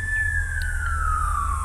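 A siren wails in the distance with a steady, slowly falling tone that runs through the whole moment, faint and alone with no one speaking.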